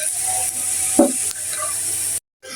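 Onions fry to brown in hot oil, a loud continuous sizzle with a brief utensil scrape partway through, close up, before a sudden short cut to silence, and no speech.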